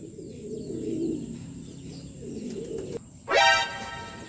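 A pigeon coos with low, soft, rolling calls close by, followed by a brief sharper chirp-like burst near the end.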